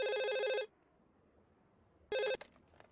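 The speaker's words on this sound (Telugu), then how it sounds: "ముందు నువ్వు ఫోన్ తీ, మధుకు ఫోన్ చేయి." Two bursts of a telephone ringtone ring loud and close, a longer tone followed by a pause and then a shorter one, with faint clicks after.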